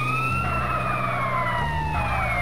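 An ambulance siren in GTA San Andreas wails steadily and loudly with a slowly gliding tone over a continuous engine rumble, with no talking.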